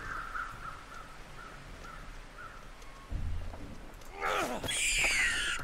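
Crows caw several times in The Long Dark's snowy wilderness, the calls fading, then a low rumble and a louder harsh burst of game sound take over near the end.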